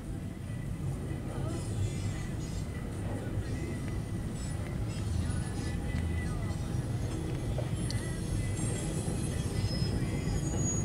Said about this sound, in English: I don't think this guy has anything else but intermodal on it.